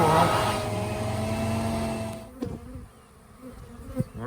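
Honeybees buzz at a backyard hive, a loud continuous humming drone up close for the first two seconds, then thinning to scattered buzzing with a few nearby thumps.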